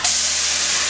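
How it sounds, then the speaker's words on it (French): Steam hisses steadily off a hot casserole of melted cheese just pulled from the oven, a loud broadband rush that starts abruptly and holds for about a second with no voices. "Ah! La vapeur!"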